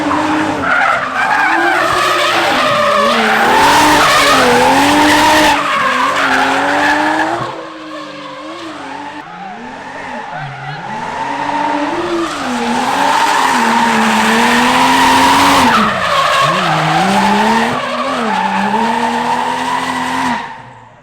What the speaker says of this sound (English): fun fact, it'll drift fourth